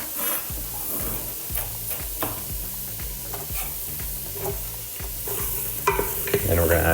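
Carrots and celery sofrito sizzle in a pan while being stirred, with rhythmic scraping and clacking of the utensil over a continuous frying hiss, louder spatters near the end.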